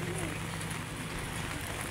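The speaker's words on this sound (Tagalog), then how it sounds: "Kaya silong muna kayo, silong, umuulan." Rain falls at Manila Bay as a steady, dense hiss with a low rumble underneath, filling the whole moment at an even level.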